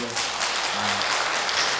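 Audience applause during a Buddhist monk's dharma talk at a temple in Hanam, a brief steady wash of clapping with a voice faintly mixed in.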